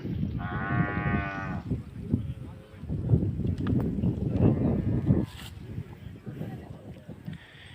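Bulls gathered at a village bullock-cart racing event in Chincholi Wadi give a low, drawn-out moo among the crowd, while people talk nearby.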